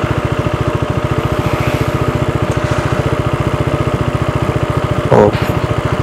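A motorcycle engine runs on a Ladakh mountain road trip with traction control switched off, throbbing close and loud in a fast, even pulse throughout, with a brief clunk near the end.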